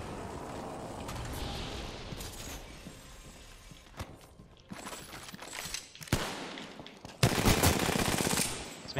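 Rapid automatic gunfire from the battle royale shooter Apex Legends, bursts of loud sustained firing with impacts, building to dense close volleys toward the end, no talking.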